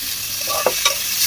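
Steady sizzle of chicken biryani ingredients frying over a very hot clay stove, with two or three short scraping stirs in the middle and no one talking.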